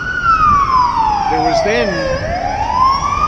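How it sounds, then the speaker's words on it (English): An ambulance siren wails loudly as the vehicle pulls up outside a county court, a long falling-and-rising tone with a brief warbling burst in the middle, while someone speaks briefly over it. "The ambulance is just pulling up in front of the county court."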